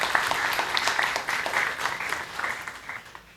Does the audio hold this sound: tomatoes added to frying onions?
no